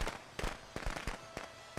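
Fireworks going off in the video game Friday the 13th: a quick run of sharp crackling pops and bangs, four or five bursts in under two seconds, fairly faint in the game mix.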